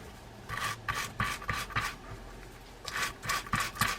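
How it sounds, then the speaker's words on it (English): A brass brush scrubs dried, shellacked grease off a gear from a vintage Ocean City 81 baitcasting fishing reel, giving close, raspy strokes in quick back-and-forth bursts with brief pauses between them. "I'm using a brass brush for this."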